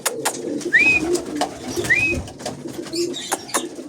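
A pigeon coos softly twice, close by, with light rustling and faint background noise between the calls.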